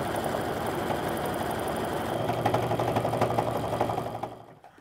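A sewing machine stitches steadily around the edges of an apron, giving a continuous close mechanical whir with a faint rhythmic clatter that slows and stops at the end.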